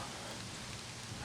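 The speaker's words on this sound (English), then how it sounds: "You can see the rain's really starting to come down now." Steady rain comes down hard outside a parked car with a stuck-open sunroof, a dense even hiss of drops throughout with no voices.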